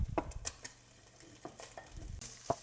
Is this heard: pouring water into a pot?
no